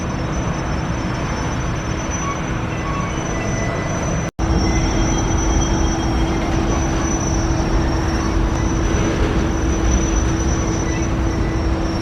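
A very long freight train crawls slowly into a rail yard beside a creek, a steady close rumble of wagons with a sustained tonal hum and faint wheel squeal running throughout, no talking.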